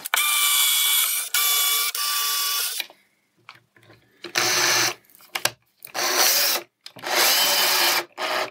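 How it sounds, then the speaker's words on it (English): A power drill whines in several loud bursts of a few seconds each, pre-drilling screw holes in wood, separated by short pauses with light clicks and handling noise. "The first step is to pre-drill these screws."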